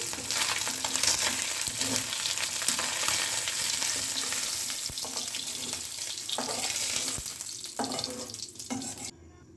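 Small fish frying in hot oil in a wok for a spinach dish, a dense, steady crackling sizzle throughout with occasional spatters and utensil movement, stopping abruptly at the very end.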